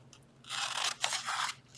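Scissors cutting through quilt fabric, three crisp snipping strokes in quick succession, close and fairly quiet with a faint low hum underneath and no speech.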